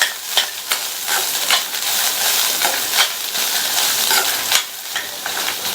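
Chopped onion, grated coconut and tamarind sauté in a pan with a steady close sizzle, broken by repeated scraping and stirring strokes; no voices.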